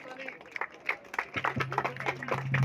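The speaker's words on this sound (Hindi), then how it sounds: "एक बार जोर से तालियां।" An audience at a village development program event claps. The applause is scattered and builds toward the end, with a voice speaking over it.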